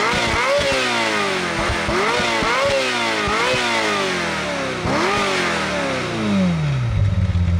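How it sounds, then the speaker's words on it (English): A Ferrari F355 Spider's V8 revs hard several times in quick succession, each loud climbing rev snapping off before the next, then settling as the engine winds down toward idle. "Take a listen to a couple of 355 revs."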